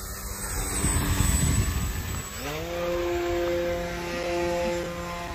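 A Flex Innovations Mamba 10 RC airplane drones past overhead in the late evening, its engine pitch sliding downward as it passes, then holding a steady buzzing whine at a moderate distance.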